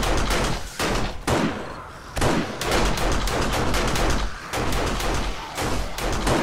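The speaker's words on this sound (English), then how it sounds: "Our auto turrets are firing." Auto turrets fire on attacking zombies during a horde night in the survival game 7 Days to Die. Loud, rapid gunfire comes in repeated bursts separated by brief gaps, with no talk over it.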